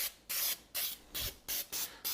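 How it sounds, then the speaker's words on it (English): Pam baking spray is sprayed onto a cake pan in seven short, even hissing bursts with brief gaps between them, quiet and close. "We've found that the Pam baking spray is the best."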